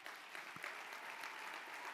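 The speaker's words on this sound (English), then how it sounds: "let's give him a round of applause" Applause from a civic-event audience in a hall, a continuous even wash of many hands clapping at fairly low level, steady for the whole stretch with no talk over it.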